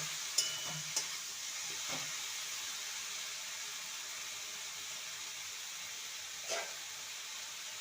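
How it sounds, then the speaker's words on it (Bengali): Okra masala sautéing in a pan, a faint, steady hiss of frying with a few soft taps and scrapes of a spoon against the pan. "রান্না করে নিতে হবে ভালো করে কষিয়ে নিতে হবে যাতে মশলাটা গন্ধ না থাকে"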